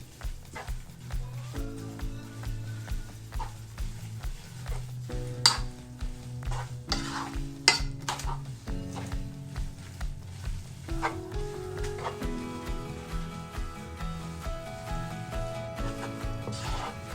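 Pancit bihon rice noodles are stirred and tossed in a sizzling pan, giving a steady frying hiss under repeated rhythmic scrapes and light clinks of the utensil against the pan.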